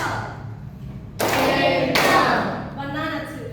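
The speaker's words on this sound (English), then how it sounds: "you need to clap your hands too. 2 claps." Hands clap out the syllables of a word in a young learners' literacy lesson, with a few sharp, close claps spaced out over soft voices.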